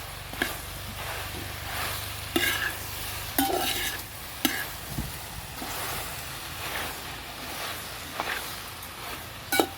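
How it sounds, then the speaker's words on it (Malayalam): Ripe jackfruit being stirred in a pan while cooking chakka varatti, with a close, steady scrape-and-sizzle and periodic sharp clinks of the spoon against the pan, no voices. "ഇപ്പം നമ്മൾ ഇതാ ചട്ടിയിൽ ഇട്ടിക്കുന്നത് നല്ല ഇളക്കിക്കൊണ്ടിരിക്കണം"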